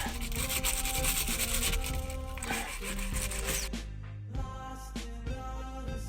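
Grime being scrubbed off a Ford Figo wheel, a steady rough rubbing and brushing that runs close and loud through the whole stretch with no talking, easing slightly near the end.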